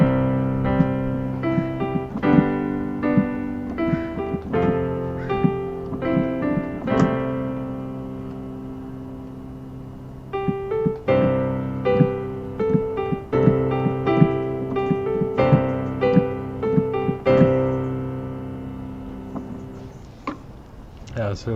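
Solo piano plays the hymn Come Thou Fount at normal tempo, a flowing run of chords and melody notes with a brief pause midway, then a second pass ending on a sustained fading chord, close and clear.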